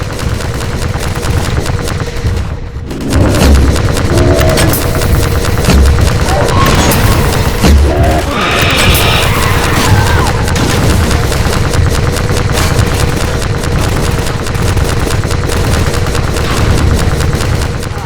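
Sustained gunfire in Half-Life 2: Episode 2, a dense, continuous barrage of shots and blasts during a fight, loud and close throughout, with faint voices now and then.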